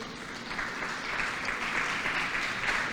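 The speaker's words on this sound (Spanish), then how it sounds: "dele un aplauso al Señor" A church congregation applauds in a steady, dense wash of clapping that holds at an even level for the full stretch, close and sustained with no voices standing out.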